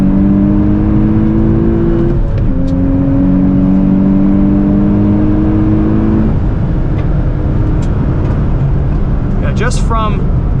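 Loud, sustained engine note of a 2027 Nissan Z NISMO six-speed manual climbing through revs and shifting on a race track, with steady road roar and a brief voice at the end.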